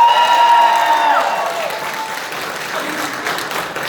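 Convention panel audience at Boston Comic Con bursts into dense applause that stays steady and fills the hall for a few seconds, with faint voices mixed in.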